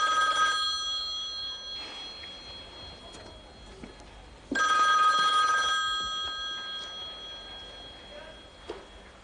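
A telephone bell rings in a few loud, steady bursts, with quieter gaps of room noise between the rings.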